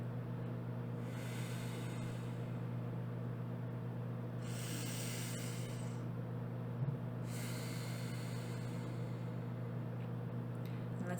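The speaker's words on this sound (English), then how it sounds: "let's go through about 5 more rounds of the Ujjayi breathing" Ujjayi pranayama breathing through a constricted throat, three slow, soft hissing breaths in a steady rhythm, each several seconds long, heard alone over a low background hum.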